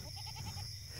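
Sheep bleating in pens in a stable around a newborn, a short run of nasal calls over a steady low murmur of movement and background noise.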